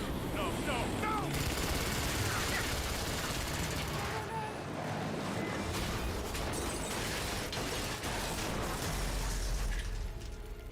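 Gunfire in the video game Rise of the Tomb Raider crackles in dense, overlapping bursts with explosive thuds and mechanical clatter, loud and continuous throughout.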